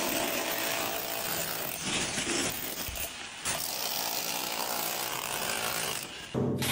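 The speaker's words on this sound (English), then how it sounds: "This requires the heavy artillery, a demolition hammer that pulverizes concrete into submission." A demolition hammer breaks up a concrete wall on a construction site with a loud, harsh, continuous rattling roar, briefly dipping mid-way and cutting off near the end.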